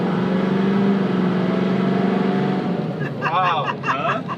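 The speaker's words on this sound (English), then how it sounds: "That's that Predator Duramax with that Allison Yeah. transmission." A Duramax diesel pickup with an Allison transmission rumbles and revs loudly nearby, its engine note rising and falling while people talk and exclaim over it.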